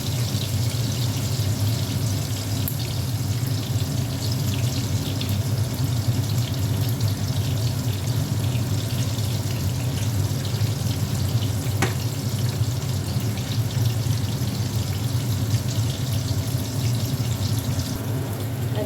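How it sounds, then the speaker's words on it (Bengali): Pointed gourd coated in salt and turmeric fries in hot oil, giving an even, unbroken sizzle heard close with no one talking. "এখানে নুন হলুদ মাখিয়ে পটলগুলো একটু ভেজে নিচ্ছি একটু লাল করে ভেজে নেব"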